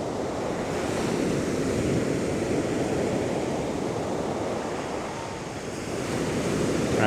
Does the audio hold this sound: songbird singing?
no